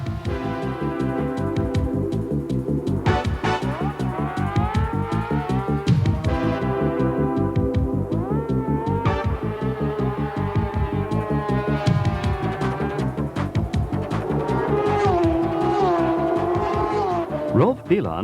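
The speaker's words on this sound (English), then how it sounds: "Rolf Bieland has caught Woltersberg in his sidecar" Racing sidecar motorcycles from the 1992 FIM Sidecar World Championship scream past, their high engine notes rising and falling through gear changes as a commentator speaks over the steady, loud roar.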